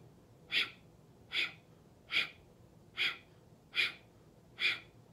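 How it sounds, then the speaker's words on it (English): Breath of fire, a rapid belly-pumped breathing exercise, heard as six sharp, evenly spaced nasal exhalations, close and clear against a quiet hum. "and then breath of fire"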